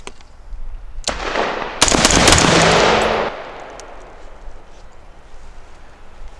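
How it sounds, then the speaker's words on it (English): Gunshots fired rapidly at a 25-yard firing line: a sharp loud crack followed by a dense cluster of blasts with ringing decay, close and unaccompanied by talk. "again, 3 rapid shots. This time though, we're at the 25 yard line"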